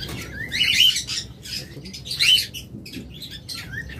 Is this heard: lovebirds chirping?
yes